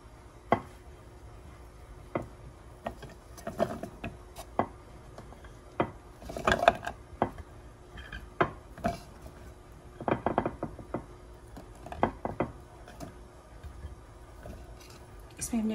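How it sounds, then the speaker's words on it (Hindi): An electric food chopper works through raw mango with no water added. Irregular sharp knocks and clatters sound close by, with bursts of pulsing and a faint steady hum beneath. "हमने इसको चॉप करना है नाइसली चॉपर में"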